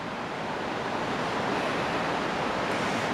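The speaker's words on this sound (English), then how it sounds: "there's the falls" A waterfall roars in a constant, broad rushing wash of water, steady and loud throughout with no voices.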